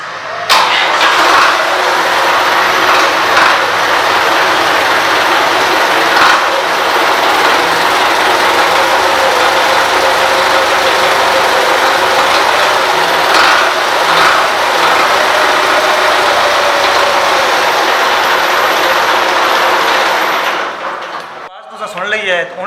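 A 2011 Belarus 510 tractor engine runs loudly and steadily up close as a broad, continuous diesel roar for about twenty seconds before cutting off abruptly, with some background voices.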